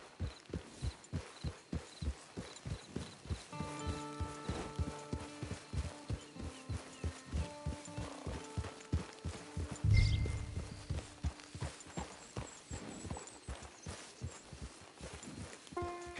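Steady, evenly paced clip-clop of horse hooves walking in a video game, with a brief louder thud midway and faint tonal music underneath.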